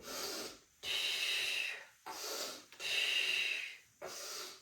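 Deep breathing during a warm-up exercise routine, four loud, close breaths alternating between airy inhales and exhales in a steady rhythm, each about a second long with short pauses between.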